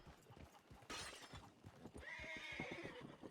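A demon horse whinnying in a Western roleplay video game, a loud shrill neigh rising and wavering over clattering hooves and a crash, with little talk.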